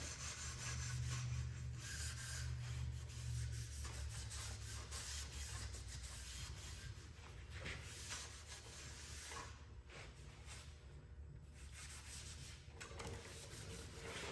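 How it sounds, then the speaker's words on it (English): An abrasive pad rubs steadily over an aged-steel paint finish, a continuous close scrubbing hiss with slight rhythmic back-and-forth swells and no talk. "bring down some of the scratch marks that I just create with this more abrasive pad"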